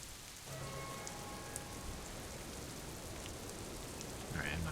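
Steady rain falls in the video game Disco Elysium, a soft continuous patter that fills the scene at low volume, with a faint brief tone early on and a small rise near the end.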